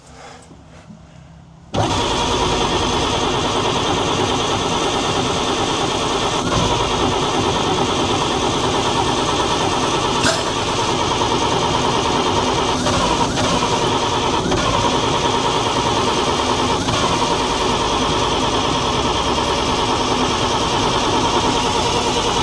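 A 1942 Chevrolet 4WD truck engine fires abruptly after a short quiet lead-in, then runs loud and steady with a rough, even idle and no voices over it.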